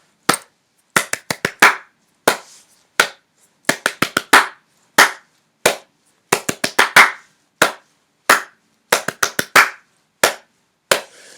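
Bare hands clap a repeating rhythm for an African guitar rhythm lesson, crisp claps in quick clustered groups separated by short pauses, close and alone.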